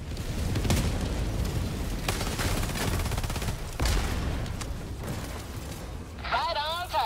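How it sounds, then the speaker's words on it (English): Mortar fire in the video game Helldivers 2, a steady stream of heavy blasts and rapid shots with booming impacts, loud and continuous, voices heard amid the fighting and a short warbling tone near the end. "Are those mortars?"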